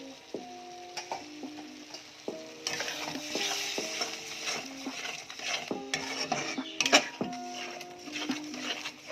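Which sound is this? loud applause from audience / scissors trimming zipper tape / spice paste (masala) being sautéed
spice paste (masala) being sautéed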